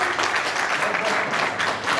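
An audience at a caregiver training session on healthy ageing applauds to welcome a panel of doctors, a thick, continuous wash of clapping with a voice speaking over it.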